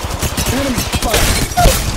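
Enemy gunfire in the battle game Apex Legends Mobile, a steady rattle of distant shots blended into busy, loud game noise with whooshing effects.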